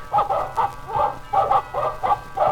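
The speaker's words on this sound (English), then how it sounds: "the dogs began to bark." Dogs bark in a quick run of about eight short woofs, steady rhythm, close and fairly loud with no talking.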